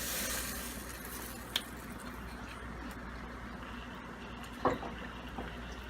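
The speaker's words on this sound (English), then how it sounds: "We're just going to stir that around for about a minute" Garlic and a splash of white wine sizzling in butter while being stirred, making a steady close hiss with a couple of brief clinks of the utensil.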